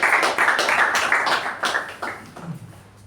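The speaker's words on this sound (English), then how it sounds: "Let's welcome Toastmaster Shivaprasad with a huge round of applause." Toastmasters meeting audience giving a short round of applause, a burst of scattered clapping from a small room that thins out and fades within a few seconds.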